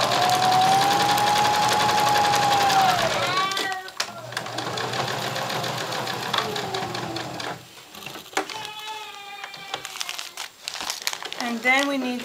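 A sewing machine runs in short bursts while stitching a quiet book, with whirring motor runs and pauses, crinkling fabric handling, and a person talking in between.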